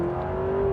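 A new Honda Prelude engine holding a steady high rev, a tonal drone heard from inside the car, brief and fairly prominent.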